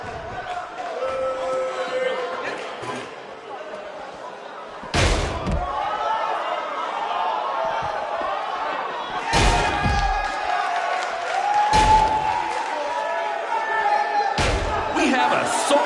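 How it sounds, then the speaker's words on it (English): An arena crowd in the WWE 2K19 wrestling video game murmurs and cheers, punctuated by several loud slams and thuds, with a voice speaking over it. "We have a sold-out, record-setting crowd here for BCW tonight."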